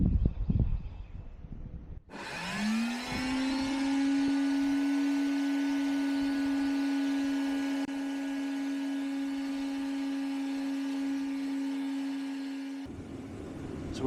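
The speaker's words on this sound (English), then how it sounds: "I can hear the vacuum pulling through our drain here" A vacuum motor spins up and runs with a steady, loud whine and strained suction drone, pulling through a clogged 3/4-inch PVC drain line, then cuts off near the end.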